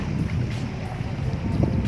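Steady wind rushes and buffets the microphone, a low continuous roar with faint boat or water noise underneath.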